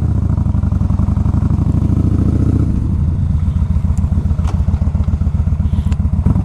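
A 2014 Yamaha Bolt motorcycle engine on a test ride, loud close rumbling exhaust with a low, steady pulse that shifts in tone partway as the rider changes speed.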